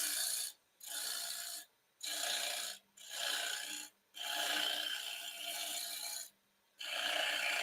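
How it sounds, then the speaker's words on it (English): Negative rake scraper cutting wood on a lathe, five loud rasping passes separated by brief pauses, close and steady with a faint hum of the spinning machine underneath. "We'll do that last line with some negative rake scraping."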